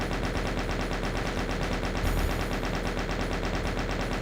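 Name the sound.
chaingunner enemies firing in Doom video game (Eviternity)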